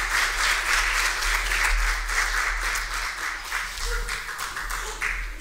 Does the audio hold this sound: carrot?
no